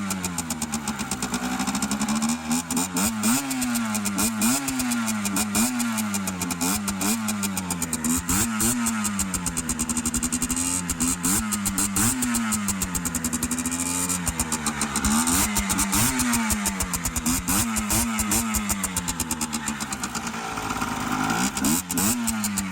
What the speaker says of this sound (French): je vais un peu accélérer, vous faire écouter